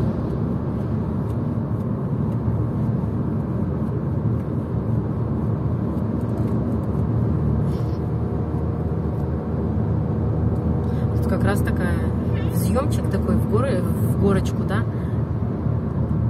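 Heavy car traffic rushes past steadily in a constant loud drone heard from inside a moving car, while people talk over it.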